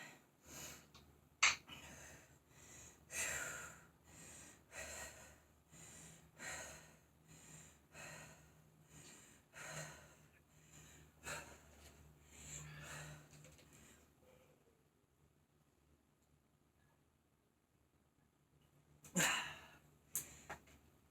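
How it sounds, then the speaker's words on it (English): Heavy, rhythmic breathing of someone resting between interval conditioning exercises, steady audible breaths for most of the stretch, fading to near silence, then a couple of sharp gasps near the end; quiet overall. "we're resting and breathing, and we're going to do this one more time"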